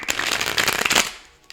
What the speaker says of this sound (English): True to form, I always have my first shuffle kind of a myth.